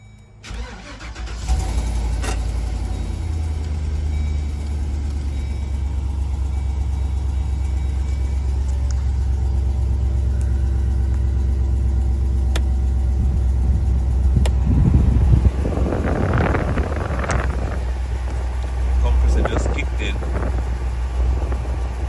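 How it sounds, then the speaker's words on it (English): A vehicle engine fitted with a 12v underdash air-conditioning unit starts and settles into a steady, close, low rumbling idle, with brief rustles and handling noises near the end. "I'm gonna start the vehicle and I'm gonna give you an idea of how it runs"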